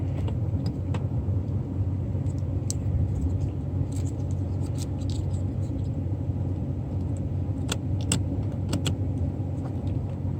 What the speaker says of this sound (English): See the window going down.